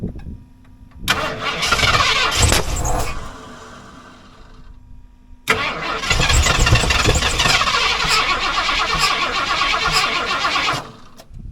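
A truck engine cranks and catches roughly, fades to a quieter stretch, then cranks again and roars into loud, steady running while the gas is mashed, before cutting off near the end.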